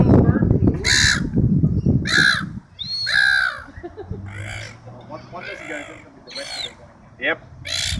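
Seagulls call repeatedly with loud, harsh squawking cries near the microphone, coming in bursts over about eight seconds, with people talking quietly underneath.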